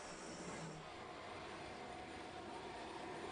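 A steady, dense roar of an airplane engine on an airport tarmac in Belize, constant and fairly distant, with no pauses or talk.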